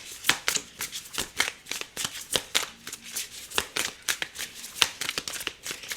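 Tarot cards are shuffled by hand in a quick, uneven run of crisp riffling slaps and flutters, continuous and close throughout, with no talking.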